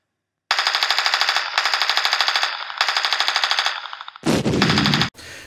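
A G&P Troy M7A1 airsoft rifle firing close up in several rapid full-auto bursts of rhythmic mechanical clicks, followed by a couple of sharper, harsher bursts at the end.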